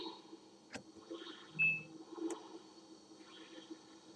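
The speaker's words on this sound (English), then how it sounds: "there's my timer" A kitchen timer beeps faintly during a turn of the strategy game Alpha Centauri, a short tone rising briefly over quiet background game music, with no talking.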